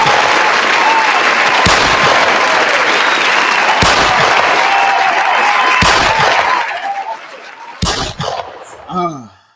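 Dense hand claps from a crowd run continuously, punctuated by four loud gunshot sound-effect bangs spaced about two seconds apart, then the clapping thins out and a short vocal sound closes it.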